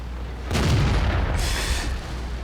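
A tank cannon fires in a tank battle video game, one heavy close boom followed by a long rumbling tail and a brief high mechanical whine.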